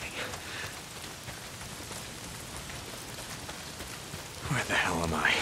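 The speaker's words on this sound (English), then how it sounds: "If it's not the freaks, it's the goddamn rain." Rain falls steadily in the video game Days Gone, a dense hissing patter on surfaces throughout, joined near the end by a louder burst of rustling and a brief voice-like sound.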